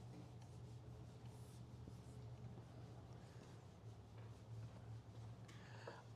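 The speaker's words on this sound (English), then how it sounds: "So we're going to write it on the board." Marker or chalk writing a chemical reaction on a classroom board, faint continuous scratchy strokes over a low room hum with no speech.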